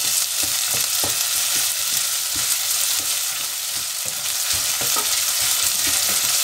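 Chopped green chilies frying in oil in a pan with potatoes and spinach for aloo palak, a constant bright sizzle with repeated stirring scrapes and clacks close by.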